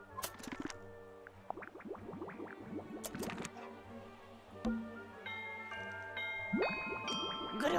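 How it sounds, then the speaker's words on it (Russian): Little bell chimes in the puzzle video game Tangle Tower, bright ringing tones and short tinkling runs that recur across several seconds, with a faint melody and a clean ding near the end. "Грёбаный колокольчик."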